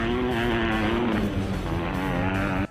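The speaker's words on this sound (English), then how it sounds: "the sound effects of the motorbike actually are compared to that of a wet fart" A video game motorbike engine drones loudly and steadily throughout, a buzzy, wet-sounding revving tone that holds its pitch with slight wavering before cutting off abruptly at the end.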